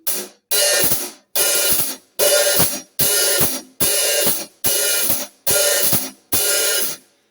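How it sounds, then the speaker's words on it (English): Nine evenly spaced hi-hat strikes closed with the foot pedal in a steady rhythm, each a short bright wash cut off crisply, played alone and close. "try to lift up your left foot every once in a while, making this noise"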